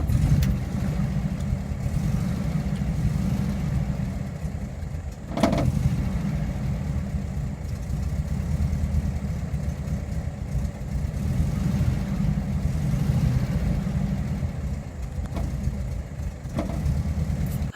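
The engine of a 1969 VW Camper runs steadily at close range after a throttle cable repair, a continuous low rumble at idle with a few brief sharp knocks and clicks. No one speaks.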